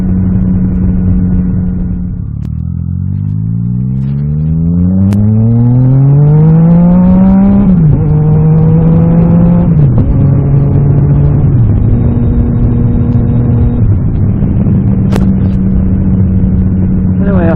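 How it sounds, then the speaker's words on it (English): Yamaha MT-09 Tracer motorbike with the exhaust baffle removed, ridden on the road: a loud, raspy exhaust climbs steadily in pitch under acceleration, then drops and rises again through several gear changes over a constant rumble. "I've got the baffle out on the exhaust, so it is a bit loud."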